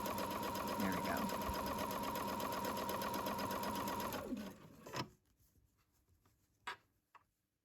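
A sewing machine stitches a pants pocket with a fast, even mechanical whir for about four seconds, then stops, leaving a few faint clicks and handling noises.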